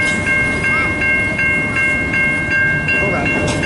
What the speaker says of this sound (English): Here's the train.